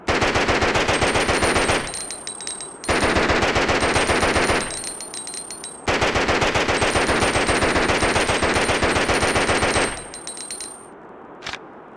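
A 9mm automatic weapon fires long, rapid bursts in the video game Resident Evil Outbreak File 2, three sustained loud volleys with short pauses between them and a single metallic click at the end.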